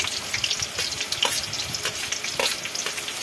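Garlic sizzles and crackles steadily in a hot frying pan, loud and close, with a few stirring scrapes over the continuous fry.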